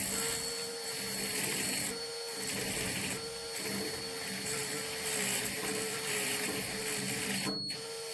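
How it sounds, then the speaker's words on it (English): A Dremel rotary tool fitted with a small wire brush works on a Hella H4 headlight housing from a 240Z, a steady high whine with a buzzy grinding texture that wavers slightly in pitch as pressure changes, close and continuous. "I attached a little wire cut brush there to my Dremel"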